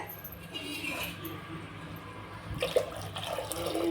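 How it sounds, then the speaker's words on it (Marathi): Tap water runs steadily into a sink as a mixer grinder jar is rinsed, a soft continuous splash that surges briefly toward the end. "मिक्सरचं भांडं धुवून घेतलं."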